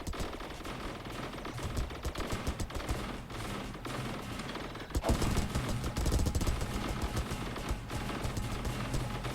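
Sustained weapons fire in the space strategy game Star Drive, a dense, continuous clatter of rapid shots and bursts that swells louder halfway through, with no talking.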